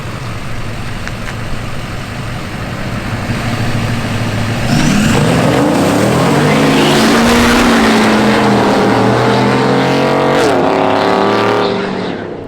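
A car launches off the line in a drag race on loose asphalt without boost, its engine roaring loud and close and then climbing in pitch as it pulls away, with other engine noise layered in.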